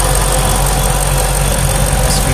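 Supercharged 5.8-liter V8 of a 2013 Shelby GT500 SVT Mustang running, a loud steady low idle rumble close by, unbroken and without speech.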